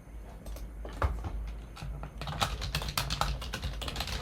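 Quick irregular keystrokes on a computer keyboard, sparse at first and then a faster, denser run of clicks, heard close and alone with no voices.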